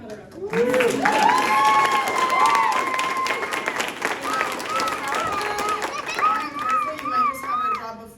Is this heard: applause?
yes